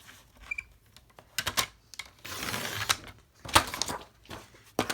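Card stock being cut to size for a gift card holder on a paper trimmer: quiet, close clicks and short scraping slides in an uneven run, with no talk.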